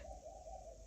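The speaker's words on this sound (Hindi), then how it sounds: "ये कबूतर की आवाज़ आ रही है या फिर कोई और पक्षी है?" Soft, low pigeon cooing repeats steadily for under a second against a quiet background hum, with no voices.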